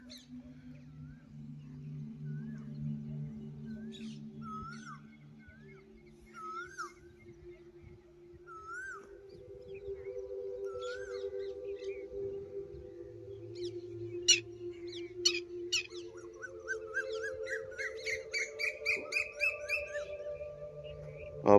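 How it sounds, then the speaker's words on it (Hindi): An Asian koel calls repeatedly in a village orchard on an Indian farm in the morning, with clear rising and falling notes. Other birds chirp quickly and densely later, over a low steady background hum. "ये कोयल बोल रही है यहाँ पे बाग में।"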